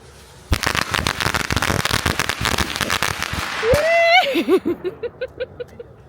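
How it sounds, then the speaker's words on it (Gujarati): A long string of Diwali firecrackers bursts outdoors in a rapid, loud crackling volley lasting several seconds, then trails off into a few scattered pops, with people talking faintly nearby. "ગયા છે લૂમ ફોડવા"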